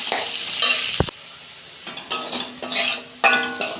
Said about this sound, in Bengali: পেঁয়াজটা আমি 2 মিনিট ভেজে নেব।